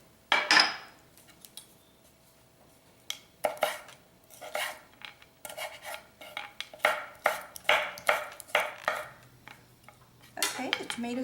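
Rapid knife chops on a cutting board as tomatoes are diced for pico de gallo, bursts of sharp, close taps in quick runs separated by short pauses, with occasional clinks of utensils.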